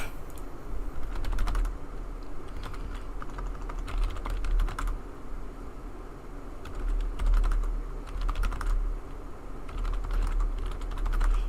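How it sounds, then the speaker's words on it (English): Rapid keystrokes clatter on a computer keyboard during a racing league broadcast, a steady run of close, light clicks with no talking. "typing down names"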